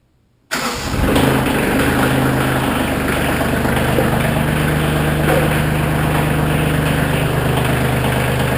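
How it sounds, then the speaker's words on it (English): A Kioti CK2610 compact tractor's small diesel engine cranks and catches almost at once, then settles into a steady, loud idle that runs continuously. "It is a good running little engine. The thing fires like right up."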